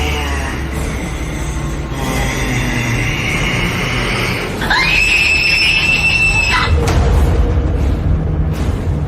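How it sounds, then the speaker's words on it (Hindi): An old woman's scream in a horror tale, a harsh rising shriek that swells midway and holds over a dense, rumbling, noisy backdrop of roughly nine seconds. "वो औरत चीख कर गायब हो गई"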